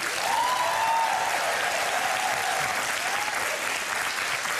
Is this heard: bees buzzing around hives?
no